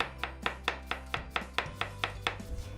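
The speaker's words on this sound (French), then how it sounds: "L'étape cruciale, c'est émincer l'oignon le plus finement possible." A knife slices finely through an onion on a cutting board, giving about a dozen crisp, evenly spaced taps close by in a steady rhythm.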